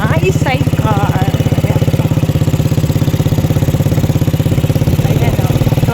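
A sidecar-equipped motorcycle engine drones steadily and up close as it rides along, with a regular, pulsing low throb throughout and brief voices at the start.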